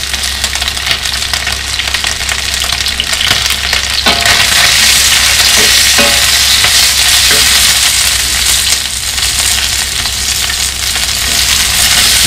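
Chopped onion and chili pepper stir-fry in a hot pan as aromatics for Thai chicken with cashew nuts, giving a loud, continuous sizzle with occasional stirring clacks and no talking.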